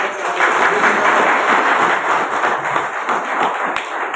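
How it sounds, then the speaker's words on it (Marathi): An audience at a public lecture event applauds, a steady, dense wash of many hands clapping together that holds evenly for several seconds without talk. "सर्व त्यांच्या पदाधिकाऱ्यांसाठी एकदा जोरदार टाळ्या."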